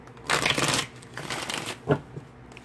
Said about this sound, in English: I'm not going to shuffle very long.